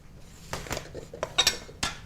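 Eggs cracked and added to a timpana mixture with grated parmesan in a bowl, giving a few sharp clinks and taps of shell and utensil against the bowl, close and clear in a quiet kitchen.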